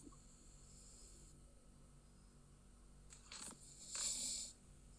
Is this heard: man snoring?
yes